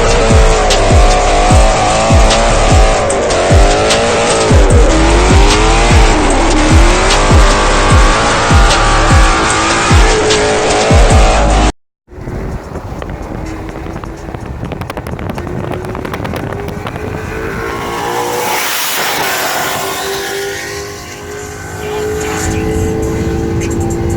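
A Ford Mustang S550 with a modified exhaust roars loudly and steadily, a continuous engine drone with shifting pitch for about twelve seconds, then a brief cut before a more distant, rising rev with a swelling peak and some wind or road noise.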